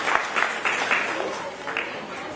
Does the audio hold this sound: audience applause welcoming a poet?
yes